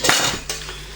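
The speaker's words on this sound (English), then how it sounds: "So they're my little cook pots, my cooking stove" Small aluminium cook pots from a bushcraft stove kit being handled, giving a couple of close metallic clanks and clinks in quick succession, loud and alone.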